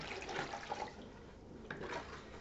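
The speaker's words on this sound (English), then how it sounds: "I'm going to pour my clay in there" Clay slurry is poured through a thin cloth, giving a wet, splashing gush that trickles and gurgles unevenly, softening midway before another brief splash.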